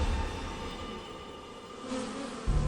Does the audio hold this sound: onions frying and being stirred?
no